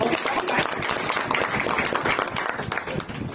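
Audience clapping for a student at an academy event, a steady, dense patter of many hands throughout a short stretch at moderate loudness, with no clear speech over it.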